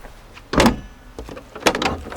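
A door on a 2021 Niesmann Bischoff Flair 920 LW motorhome, built on an Iveco Daily, is pushed shut with a solid thud, followed by a second firm latch closing a moment later, close by and without talking.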